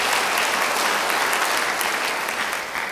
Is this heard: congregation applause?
yes